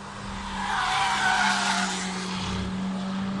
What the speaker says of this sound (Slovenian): To je bil pa GTR, noro.